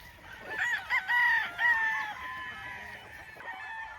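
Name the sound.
Gilmore straight comb rooster crowing on gamefowl farm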